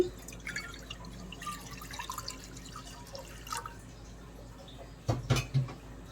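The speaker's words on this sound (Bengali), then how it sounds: "এখন আমি এর মধ্যে দিয়ে দিচ্ছি পানি।" Water poured into a pan on a lit stove before boiling moong dal: quiet, faint drips and trickles, then a brief, louder splash near the end, close by.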